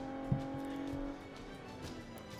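A 2013 Audi S4 with a 333-horsepower V6 turbo engine in Forza 5 drones steadily as it accelerates, a fairly quiet, even engine tone with a brief bump near the start and no voices.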